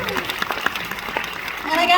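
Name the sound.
audience applause at career conference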